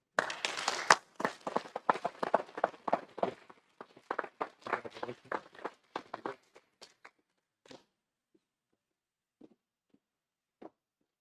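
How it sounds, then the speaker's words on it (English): Audience applause at a town council meeting: dense clapping for several seconds, thinning into scattered claps that fade out, with a few isolated claps near the end. "Round of applause again."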